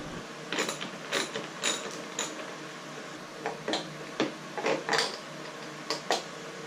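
Hand wrench turning off the nuts that hold the hood latches on the inside of a Jeep Wrangler JK hood, heard as scattered close clicks and ratcheting ticks in short bursts, with no talking.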